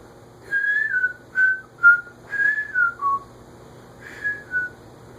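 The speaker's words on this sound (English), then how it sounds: "Did I tell you I was asked not to whistle in my videos?" A person whistles a short melodic tune of several bright, wavering phrases with brief gaps, close and clear over a low steady hum from a ceiling fan running in the room.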